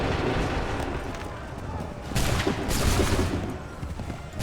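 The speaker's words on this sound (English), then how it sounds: "Make ready. Open fire. Wait for the signal. Fire!" A musket volley in the game Assassin's Creed III Remastered, heard as a dense, roaring burst of massed gunfire that swells midway through over an ongoing loud battle din.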